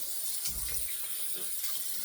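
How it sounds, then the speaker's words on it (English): A tap runs hot water steadily into a sink as the face is wetted for shaving, with close splashing and gurgles from hands in the stream. "So let's just wet the face first"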